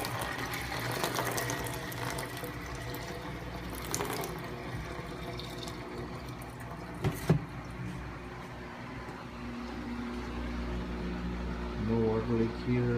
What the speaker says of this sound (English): Pumping a lot of water out.